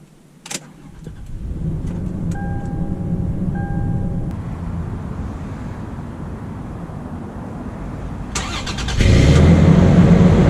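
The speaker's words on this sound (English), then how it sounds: "Starting up the 2019 Toyota 4Runner." 2019 Toyota 4Runner TRD started with a key: a click and chime tones, then the engine cranks, catches and settles into a steady idle before revving louder near the end.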